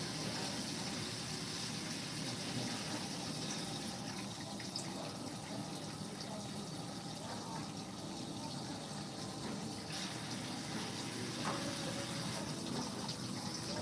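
Tap water runs steadily from a faucet in a barbershop, a continuous broadband rush with no breaks, fairly close and even in level throughout.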